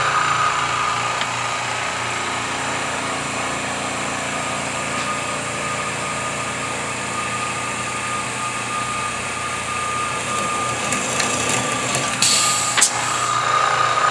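A Blackalloy multi-drill air drill runs at about 1700 RPM on 90 PSI air through a drilling test cycle, giving a steady, continuous mechanical whir with a few brief higher-pitched squeals near the end.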